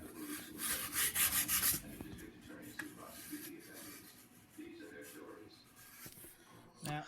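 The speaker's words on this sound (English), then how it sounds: "that's the sanding done" Rough rubbing strokes of hand sanding on a surface, a few bursts of scraping close by, with quieter pauses between.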